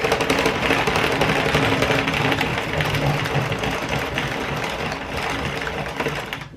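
A hand-cranked circular knitting machine being turned to finish a beanie, giving a continuous loud mechanical whirring and clatter that holds steady for several seconds before easing off at the end.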